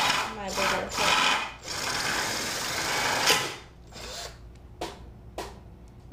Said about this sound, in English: switching out that drill bit, and then I'm just centering it on there again, and we'll drill through my bigger hole